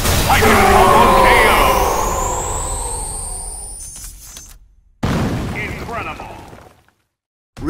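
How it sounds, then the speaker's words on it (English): A huge charged energy blast from a proton cannon super move in Marvel vs. Capcom Infinite, a loud roaring burst that sweeps and fades over several seconds, followed by a second, shorter impact. "Here's the big one. Proton cannon."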